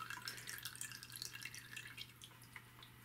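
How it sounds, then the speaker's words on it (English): Compost tea dripping steadily into a bucket, a continuous faint patter of small drops over a low constant hum, with no voices. "we're going to let this just kind of drip here for a second"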